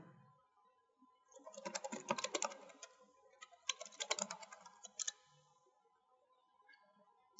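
Fingers type on a computer keyboard in two bursts of rapid, close clicking, separated by a short pause, with quiet surroundings and no talking.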